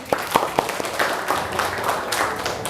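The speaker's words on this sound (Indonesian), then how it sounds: "Tepuk tangan dulu dong buat Indah." Students in a classroom lesson clap for a classmate, opening with a few distinct separate claps that blend into a brief, loose patter of scattered clapping from a small group nearby.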